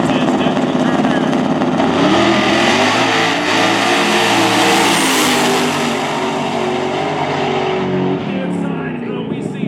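Drag racing cars rev at Lake Cumberland Dragway during a Halloween racing event, their loud engines roaring and climbing in pitch together close by and holding strong throughout.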